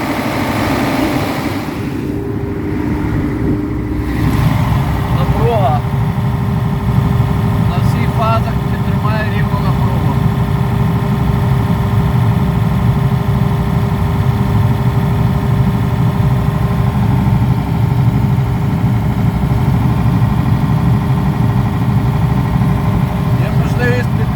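A 2006 Italian CO.G.E.N 300 kVA (240 kW) diesel generator idling as it warms up: a steady, even, loud low rumble with a constant hum, running unbroken throughout.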